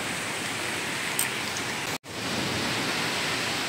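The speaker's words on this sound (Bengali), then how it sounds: "কেমন ঝড় হচ্ছে আমাদের এদিকে" Heavy storm rain pours down in a dense, steady hiss that fills the whole clip. There are no voices, and the sound drops out for a moment near the middle.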